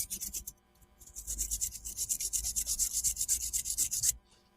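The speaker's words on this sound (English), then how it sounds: "I'm just going to get a little wire brush and give it a wee clean." A small wire brush scrubs rust off a BMW E46 brake caliper in fast, close, steady strokes for several seconds, each stroke giving a harsh bristly scratch before it stops abruptly.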